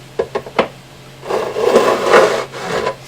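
A file rasps across the fret ends of a Martin 00028 acoustic guitar: a few short separate strokes, then a longer run of close, steady scraping strokes, near and clear.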